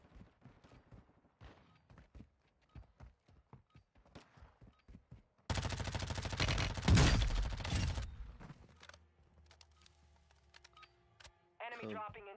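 Video game gunfire during a PlayStation 4 shooter training round, a dense loud burst of rapid shots in the middle, with someone talking before and after and another short burst at the end.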